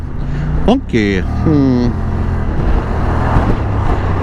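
Road traffic passing around a Kymco AK550 Premium scooter on a road trip, near a tunnel, heard as a steady wind-buffeted engine and road roar with a brief rising tone and someone talking over it.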